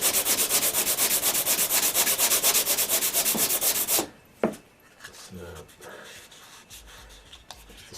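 Hand sanding of an RC model part coated in Polycrylic, a steady rapid back-and-forth rasping for about four seconds, loud and close, then stopping into quiet handling noises.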